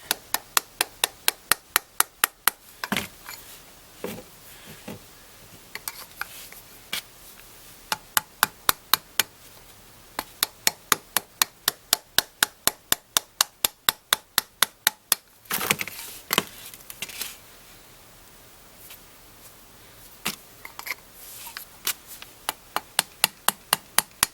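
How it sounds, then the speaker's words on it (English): Repeated sharp taps of Schedule 40 PVC pipe against a silver spoon being shaped into a ring, coming in quick even bursts of a dozen or so strikes with short pauses, close and crisp. "I'm going to give it a little tap with this Schedule 40 PVC."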